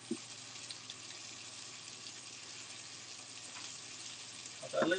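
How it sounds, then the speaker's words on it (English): Tap water runs steadily into a kitchen sink while hands are washed during burger preparation, a continuous broad splashing hiss throughout, with a brief clatter near the end. "And wash my hands again."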